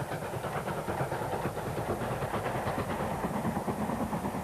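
Steam locomotive 5407 hauls a train of blue and grey Mark I coaches toward Mallaig, a steady, moderately distant rumble of engine and wheels with faint rhythmic clatter and no voices.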